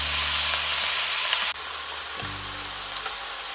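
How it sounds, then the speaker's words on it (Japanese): Pork and vegetables stir-fry in oil in a frying pan, a loud, steady close sizzle that drops sharply partway through as more food goes in, then carries on alongside a low hum, with no voices. "しんなりとするまでしっかり炒めていきます"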